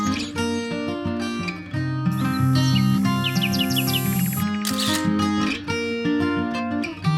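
Birds chirp and tweet at a smart bird feeder, short bright calls scattered over steady, louder background music.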